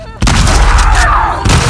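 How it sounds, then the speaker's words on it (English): A single loud, close shotgun blast in The Last of Us Part II, booming and sustained with reverberation, followed by a second sharp hit near the end. "Shotgun."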